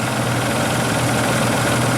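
Ford Rodeo engine turning over and catching, a steady loud mechanical drone with dense idling rumble and vibration throughout, close up with no talk.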